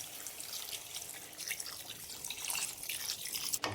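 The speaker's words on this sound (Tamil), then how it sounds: "தண்ணி ஊற்றி நல்லா கலந்து விட்டுருங்க" Water is poured into chicken curry in a pot for hotel-style chicken kulambu, a soft, steady splashing pour lasting a few seconds that ends in a brief clatter, with no talking.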